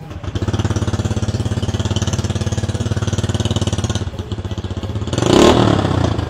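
A motorcycle engine fitted with a Villain exhaust pipe and silencer idles with a steady, loud pulsing chug, then blips into a brief rising rev near the end, heard close up with no talk.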